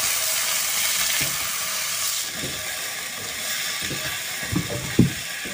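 Kikil and onion frying in a pan with a steady broadband sizzle, while a utensil scrapes and clatters against the pan in irregular strokes, the loudest knocks near the end; no talking.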